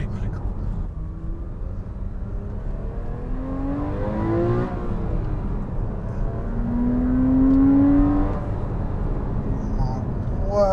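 A Porsche 981 Cayman GTS engine revs and climbs through gears, its tone sweeping upward twice with a loud, sustained peak near the end, while people talk over it.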